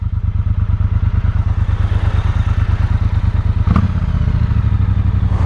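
A Triumph Speedmaster motorcycle engine idles close by, a steady low throbbing pulse that runs throughout, with a brief clunk partway through and no talking.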